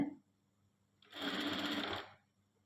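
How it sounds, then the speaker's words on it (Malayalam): Sewing machine stitching the hem of a kaftan nighty, a brief one-second burst of fast mechanical whirring that follows a short moment of quiet, heard close and fairly soft. "ഫുൾ റൗണ്ട് ഒരേ മടക്കിൽ സൈഡിലേക്കാണ് ഞങ്ങൾ സ്റ്റിച്ച് ചെയ്ത് കൊടുക്കേണ്ടത്."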